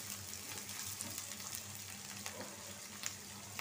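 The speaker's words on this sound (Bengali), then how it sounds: "এখন এটারে একটু ভাজা নিব, বাদামি রং করে নিব, যাতে রসুন আর পেঁয়াজের কাঁচা গন্ধটা চলে যায়" Garlic and onion fry in a pan until browned, giving a faint, steady sizzle with a few small crackles, close by and without speech.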